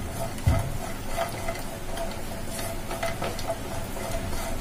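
An ingredient for sweet potato halwa roasting in a pan, a steady soft sizzle with a scrape of stirring near the start, close and continuous.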